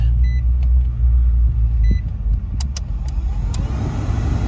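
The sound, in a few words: car blower motor running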